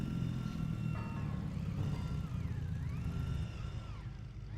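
A vehicle engine in the Scrap Mechanic video game runs too fast, a steady loud drone with rising and falling whining tones sweeping up and down over a rumbling low end.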